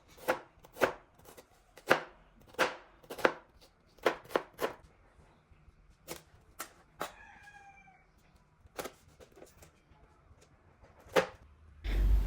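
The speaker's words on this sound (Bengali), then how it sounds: "তার সাথে কেটে নেব রান্নার জন্য পেঁয়াজ ও মরিচ।" Onions and chilies chopped on a board, a series of sharp knife strikes in an uneven rhythm with pauses, close and clear; a rooster crows faintly in the background.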